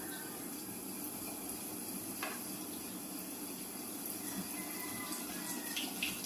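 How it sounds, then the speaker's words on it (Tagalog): Kalitkalit frying submerged in hot cooking oil, a steady soft sizzling and bubbling that continues quietly and evenly throughout. "Imo na iprito. Kailangan nga mulubog sa mantika."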